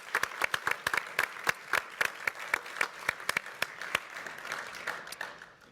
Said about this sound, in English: So please join me in applauding them.